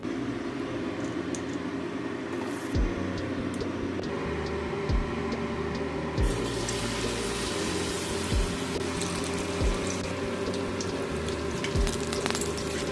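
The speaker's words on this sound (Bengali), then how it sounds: "একটা একটা করে এরকম করে আমি ভেজে নেব।" Pumpkin fritters coated in gram flour batter deep-fry in hot white oil, giving a steady, close crackling sizzle dotted with sharp pops and bubbling bursts throughout, with no talking.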